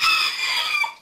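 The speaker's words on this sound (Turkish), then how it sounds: "Benim Plymouth cinsi horozum." A Plymouth breed rooster crows close by in one loud, sustained call that tapers off near the end, with no talking over it.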